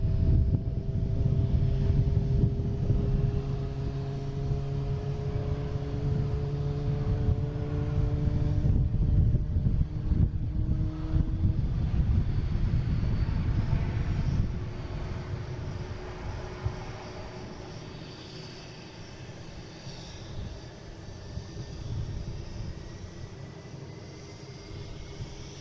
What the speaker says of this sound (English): That's a JetBlue coming in from Dulles.